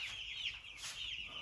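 Meat chicken chicks about two weeks old, in a brooder, cluck and peep continuously in a close, busy chorus of high, chirpy calls.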